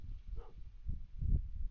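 A pup that has found a seagull gives a few short, low barks mixed with soft whimpers, close by and brief, with no talking.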